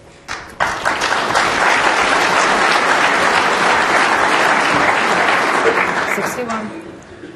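Crowd applause at the 2012 snooker World Championship final between Ronnie O'Sullivan and Ali Carter, a loud, dense wash of clapping that breaks out suddenly, holds for about six seconds and then tapers off.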